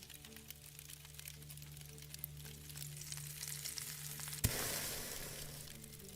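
Meat boils and sizzles in water while cooking in the zombie western survival crafting game Above Snakes, a soft constant bubbling with a low hum that swells louder after a brief click.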